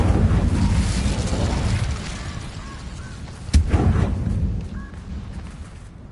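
An Incendio fire spell cast in Hogwarts Legacy gives a sharp, punchy burst midway, with a fiery roar trailing off over a bed of busy game noise and ambience.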